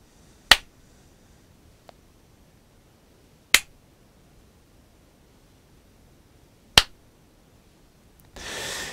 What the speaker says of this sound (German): jetzt machen wir nochmal den Klatschtest